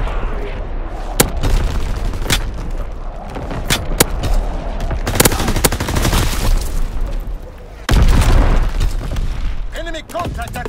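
Artillery battery firing in Call of Duty WWII multiplayer, repeated sharp booming shots and gunfire bursts scattered through a dense, loud battle mix with radio voices talking over it.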